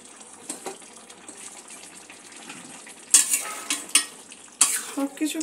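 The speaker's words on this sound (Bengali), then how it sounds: "সব কিছু ভালো করে মিক্স করে নেব।" Crispy noodles with shrimp and egg stirred in a pan: a soft steady sizzle with scraping stirs, then sharper clattering spatula strokes near the end, close and moderately loud.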